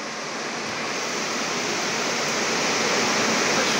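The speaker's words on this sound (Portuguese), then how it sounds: "Olha como a chuva tá aumentando" Heavy rain pours down in Ceará, Brazil, as a dense, steady hiss that grows slightly louder, with no other sounds standing out.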